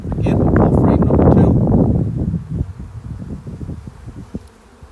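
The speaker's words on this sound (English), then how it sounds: "as you can tell, you get bees on the edges" Honeybees buzz loudly and densely around a hive frame during a one-month hive check, a thick drone that fades to scattered buzzing as someone speaks nearby.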